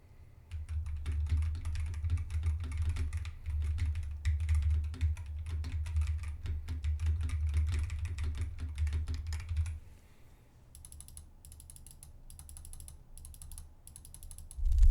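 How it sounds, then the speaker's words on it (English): Steady rapid keyboard typing, recorded through a Razer Seiren V3 Chroma microphone, fills most of the stretch, then stops, leaving a few sharp, sparse mouse clicks near the end. "Here's what it sounds like if I start typing and clicking the mouse."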